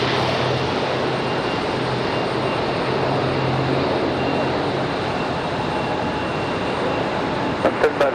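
An ATR turboprop airliner at Raleigh-Durham airport gives a steady, broad engine roar with a low droning hum, holding even throughout, with a few faint clicks near the end.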